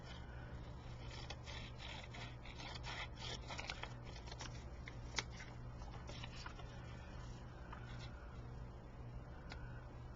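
Scissors cut a piece out for a bag cover, giving a faint run of soft snips and scraping rustles close by, with no speech.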